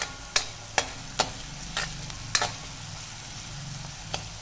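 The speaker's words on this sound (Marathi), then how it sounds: "व्यवस्थित कांदा भाजून घ्यायचा." Onion frying in oil with turmeric for a prawn and pumpkin masala, stirred with a spoon: a steady soft sizzle under five or six sharp scraping clicks of the spoon against the pan, close and fairly quiet, with no talking.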